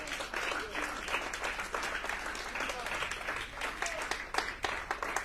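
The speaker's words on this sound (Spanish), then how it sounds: "Si quiere aplaudirle al Señor, lo puede hacer" A church congregation applauds the Lord with dense, continuous clapping that fills the room, voices mixed faintly in the background.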